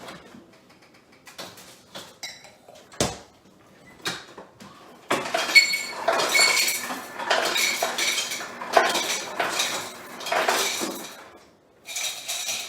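Ice being loaded into a mixing vessel, with scattered clinks and knocks at first, then a dense run of rattling, clattering cubes against glass, close and fairly loud, easing off before one last burst.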